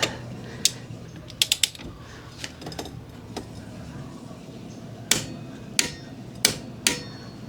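A torque wrench fitted with a 19mm socket tightens the CVT nut on a Yamaha NMAX scooter. Sharp metallic clicks come in small clusters near the start, then four evenly spaced loud clicks follow toward the end.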